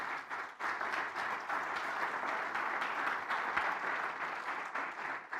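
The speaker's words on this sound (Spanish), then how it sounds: "denles aplauso al Señor todos." A church congregation claps together in a dense, sustained wave of applause that holds steady at moderate volume from start to finish.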